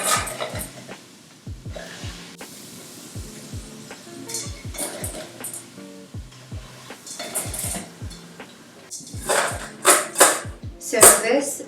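Crispy baked potato pieces for aloo chaat being moved and tossed in a pan, a run of close clinks, scrapes and rattles that grows busier and louder toward the end, with someone talking over it.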